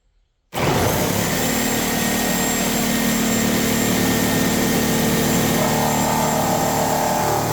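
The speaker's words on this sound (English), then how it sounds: "Now we have the Bosch blade against the wood with nails" A reciprocating saw with a Bosch demolition blade cuts through wood embedded with nails, starting abruptly into a loud, sustained high-pitched motor roar and buzzing grind that holds steady for about seven seconds, with no voices.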